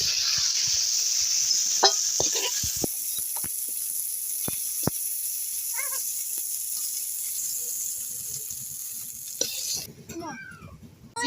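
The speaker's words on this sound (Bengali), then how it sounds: "চিংড়ি মাছটা ভাজি করার জন্য একটু লবণ দিয়ে দেবো, আমার একটু হলুদ দিয়ে দেবো।" Tiger prawns frying in a pan with salt and turmeric, a steady hiss of hot oil with scattered clicks and spatters, a few utensil taps, and a brief spoken word near the end.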